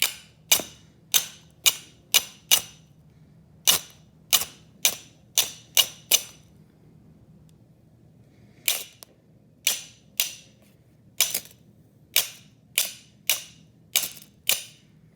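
A fire starter rod is struck over and over in two bursts of sharp, bright clicks and scrapes, evenly spaced about half a second apart, with a pause in the middle, close and alone over a low hum.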